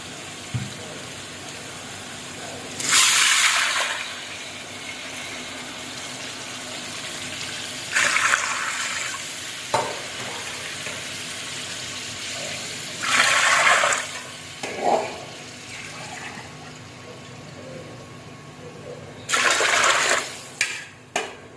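Water pours into a pot of chicken biryani after the meat has been browned. Several separate gushing bursts of a few seconds each stand out loudly over a quiet kitchen background.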